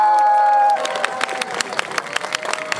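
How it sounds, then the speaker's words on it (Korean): Crowd applause and cheering at an outdoor radio open broadcast with K-pop group Berry Good, starting after a held tone and continuing as scattered, moderately loud claps. "여러분 다시 한번 큰 박수 부탁드리겠습니다"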